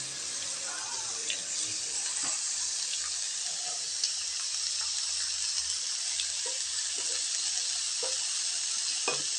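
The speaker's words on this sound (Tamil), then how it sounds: "எண்ணெயிலே வதங்கிக்கிட்டே இருக்கட்டுங்க" Sliced onions and a few curry leaves sautéing in hot oil for a masala chutney, a bright, continuous sizzle with scattered crackles and light stirring, close and steady throughout, with no talking.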